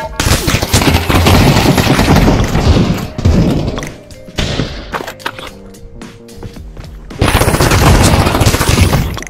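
Rapid bursts of automatic gunfire and booming impacts in the Counter-Strike: GO VR video game, loud and dense at the start and end with a sparser, quieter stretch of scattered shots and thuds in the middle.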